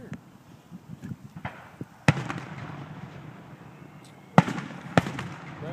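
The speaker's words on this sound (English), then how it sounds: "Watch fireworks, because they're going to be over and then it's done." Fireworks at an Indiana display boom and crackle, with several sharp, loud bursts standing out over softer distant pops and a low background murmur.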